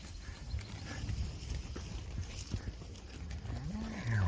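Cattle low faintly on a ranch while cow-calf pairs are herded toward summer pasture, amid hoof shuffling and outdoor noise, with a rising moo near the end.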